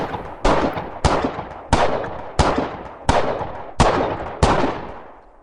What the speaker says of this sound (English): 9 gunshots stopped everything.